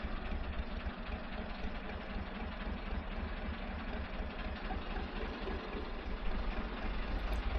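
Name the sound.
narrowboat engine idling in a River Thames lock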